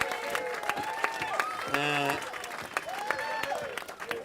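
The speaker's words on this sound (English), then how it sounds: "So we're going to have a round of applause to the ushers" A wedding crowd claps steadily while voices shout and cheer over it, with one sustained yell in the middle.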